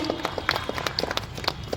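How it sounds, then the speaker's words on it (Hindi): An audience at a formal event for food safety administration and a nursing college applauds to welcome the chief guest, with scattered, moderately loud hand claps heard close by. "खड़े होकर कृपया तालियों से हमारे मुख्य अतिथि का आज के कार्यक्रम में स्वागत करेंगे"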